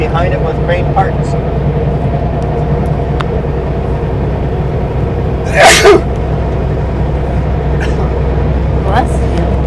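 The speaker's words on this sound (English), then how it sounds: "Just making sure that's the only sneeze." A single sharp sneeze from someone inside a Super B truck cab, brief and close, rising above the steady low engine and road rumble of the moving rig.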